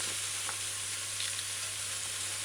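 Beef and broccoli stir-fry in oyster sauce sizzles steadily in a hot pan, a constant broadband hiss with a low hum beneath it and a few soft stirring clicks, with no voices.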